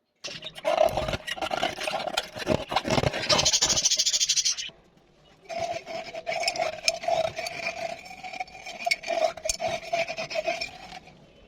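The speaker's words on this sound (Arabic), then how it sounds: "اسمعوا بقى احلى تزييقة واحلى نظافة" Close rubbing and scraping on a squeaky-clean dish, with sharp squeaky tones, in bursts separated by a short pause.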